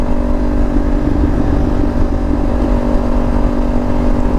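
A motorcycle on a ride, its engine droning loudly and steadily with a constant rumble and wind noise, close to the rider and with no talking.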